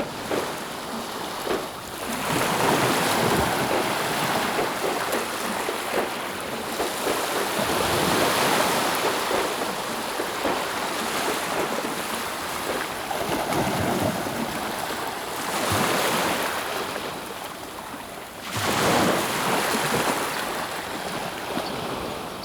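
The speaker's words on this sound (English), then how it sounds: "No matter where you are, you hear the ocean." Ocean waves wash steadily against the shore of a small island, a continuous loud roar of surf that swells and breaks in repeated surges, with no voices.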